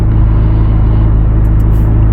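A 2025 Corvette Z06 supercar engine drones steadily at low rpm while driving, a loud continuous rumble with no talk over it.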